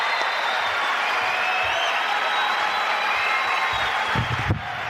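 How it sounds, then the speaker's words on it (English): Comedy show audience applauding for Jay Leno as he takes the stage, a steady wash of clapping throughout with whistles over it and some low thumps near the end. "Let's have a big round of applause"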